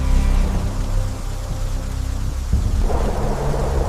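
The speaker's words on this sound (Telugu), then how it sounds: "మెరుపు చీల్చుకుంటూ పడుతోంది ఏదో ప్రమాదం జరగబోతున్న సూచనలా ప్రకృతి కనిపిస్తోంది" Steady film-style rain hiss with a deep, rolling thunder rumble underneath, setting a stormy night outside a high-security research lab far from the city; loud and continuous with no voices.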